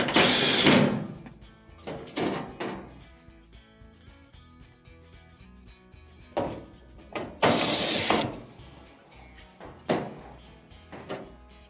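Screws go back into the cover plate of an LG dryer being repaired for a no-spin fault: a few bursts of a driver's buzzing whir separated by quieter clicks and handling noises, close by, without talk.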